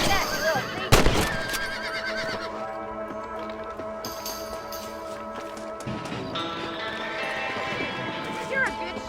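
Horse whinnying in the Western video game Red Dead Redemption, a sharp neigh near the start over a steady music and game-ambience bed, with a few more brief horse sounds and a voice talking.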